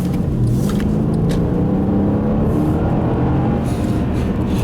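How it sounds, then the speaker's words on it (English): A 2013 Mercedes-Benz CLS550 4MATIC V8 engine rumbles loudly and steadily up close, a deep throaty growl that holds a constant low drone with no talking. "you do get a nice V8 growl from this engine"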